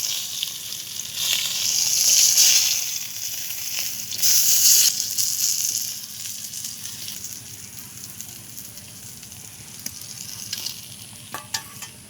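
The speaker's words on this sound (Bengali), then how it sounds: "মাছগুলো ভাজা হয়ে গেছে, এবারে তুলে নেব।" Steady oil sizzling and crackling as pangasius fish fries, with louder bursts of hiss early on that settle into a quieter, continuous fry with occasional pops.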